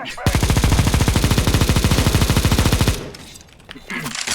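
A rapid, sustained burst of automatic AK rifle fire in a multiplayer shooter video game, close and loud, running for nearly three seconds before cutting off into quieter game ambience.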